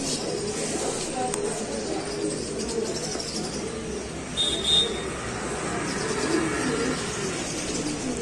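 Pigeons cooing softly in the distance at a Sunday pigeon market in Allahabad, over a low ambient hum, with occasional faint chirps and rustles.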